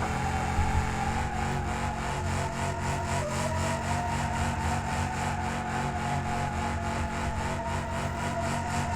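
A car with a welded differential spins donuts in the BeamNG.drive driving game, giving a loud, continuous engine-and-tyre roar with a steady rhythmic pulsing throughout and no talking.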